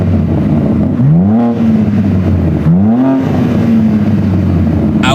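A BMW M3 with an aftermarket exhaust revving loudly up close, its engine note rising in two quick swoops and easing back to a steady drone, with no voices.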